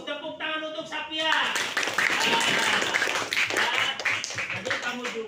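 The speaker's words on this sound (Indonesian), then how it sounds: "tepuk tangan untuk Sapia" A school class bursts into applause for a pupil, a dense burst of many hands clapping that starts after a teacher's voice and continues steadily to the end.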